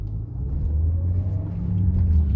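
A car pulling away in first gear during a driving practice session: a steady low engine drone that swells slightly as power is applied, heard close from inside without talk.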